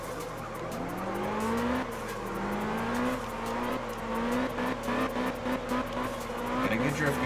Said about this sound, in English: Got a good drift going here.